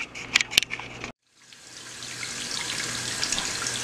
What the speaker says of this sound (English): we got some cold water running on it